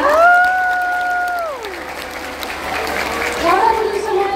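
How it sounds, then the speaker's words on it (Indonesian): Audience at an elephant show in a safari park stage arena breaks into applause that swells midway, following a drawn-out tonal voice or whistle, with speaking heard over the start. "kasih dong tepuk tangannya yang paling meriah"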